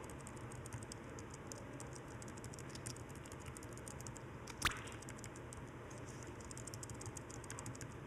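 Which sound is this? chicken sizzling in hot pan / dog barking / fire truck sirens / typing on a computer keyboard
typing on a computer keyboard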